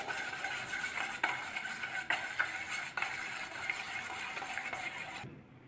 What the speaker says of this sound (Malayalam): ഒരു നുള്ളി ഉപ്പും ചേർത്തു ഈ ഇളക്കി നന്നായിട്ട് മിക്സ് ചെയ്യുക